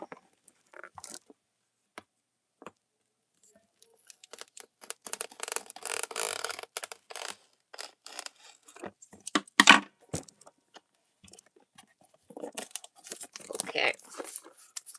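Packaging around a set of new markers is torn and crinkled open by hand, with bursts of ripping and rustling plastic and cardboard, a loud tear near the middle, and brief quiet pauses between.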